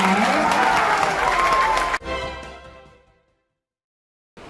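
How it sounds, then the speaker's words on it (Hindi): Crowd at a political rally clapping, dense sustained applause that swells and then cuts off abruptly, followed by a fading echo and brief silence before a new sound begins. "एक बार आप ताली बजाइए"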